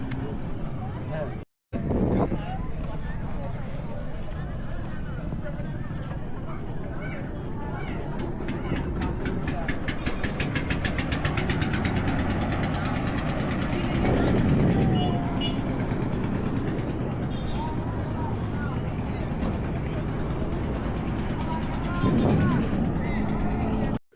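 A boat engine runs at a ghat on a floating-bridge lake, a steady close mechanical rumble with rapid rhythmic chugging, heard under people talking nearby.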